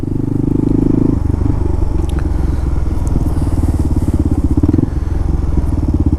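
A Kawasaki Versys motorcycle engine runs steadily and loud through New York City streets, a continuous low throbbing drone with a shift in tone just after the first second and faint clatter and road noise throughout.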